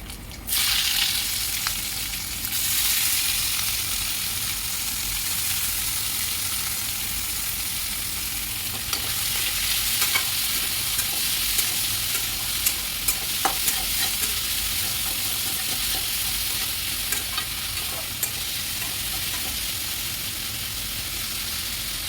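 Chilies, tomatoes and onions hit a hot pan with a loud burst of sizzle, then keep frying in a steady, close crackle with small clinks of stirring throughout.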